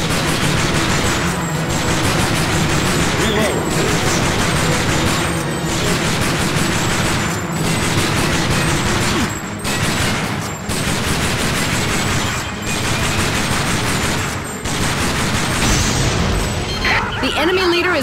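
Sustained arcade shooter gunfire from Time Crisis 4, with handgun shots cracking in rapid runs among explosions and heavy battle noise, loud and nearly continuous for the whole stretch, with game voice callouts over it.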